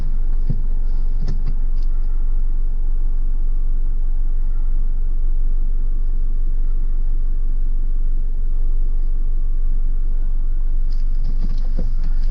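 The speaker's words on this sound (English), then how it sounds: "All right, it's about to stall out, so now I'm going to push the clutch in." Manual-transmission car engine idling low and rumbling steadily with the clutch in, heard close and continuous for about twelve seconds, a brief mechanical knock near the start and end, no talking.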